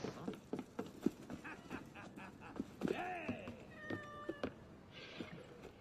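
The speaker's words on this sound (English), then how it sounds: "Was that a cat?" A cat meows in Assassin's Creed Unity, a couple of short rising cries amid clattering footsteps and background game noise, fairly quiet, with bits of talk mixed in.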